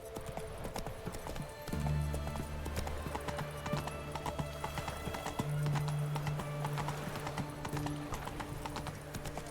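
A horse's hooves clip-clop steadily in The Witcher 3: Wild Hunt, a continuous rhythmic trot with occasional snorts or whinnies over an ambient game soundtrack.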